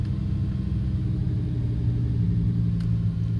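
Lamborghini Huracan EVO in Corsa mode, a deep steady engine rumble heard close from inside the car, even and unrevved for a few seconds with one faint click.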